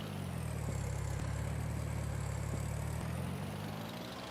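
Steady idle of an Allis-Chalmers tractor engine in Farming Simulator 22, a close, deep, even chug with a rhythmic low pulse and a few faint clicks, running alone without voices.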